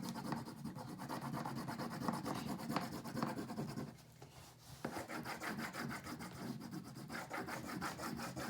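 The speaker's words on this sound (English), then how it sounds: "Trying to make sure that my crayon is going in the same direction as much as possible" A blue crayon rubs back and forth on paper during blending, making a close, steady scratchy shading sound in fast repeated strokes, with a short pause partway through and no talking.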